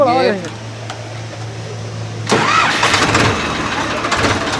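A Ford tractor engine cranks and fires up partway through, then settles into a loud, rough idle, after a short stretch of voices and a steady hum at the start.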